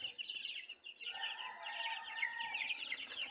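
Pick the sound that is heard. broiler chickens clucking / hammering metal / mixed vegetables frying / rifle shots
broiler chickens clucking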